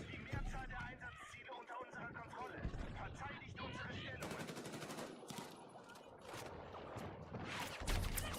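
In the video game Battlefield 6, rapid automatic gunfire rattles in dense, loud bursts almost without pause, with excited voices talking over the shooting.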